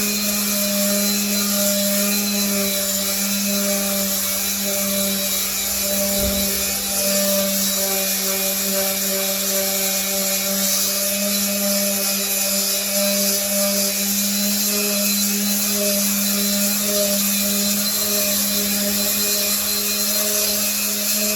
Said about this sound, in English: I'm going to use my mouse sander and go to town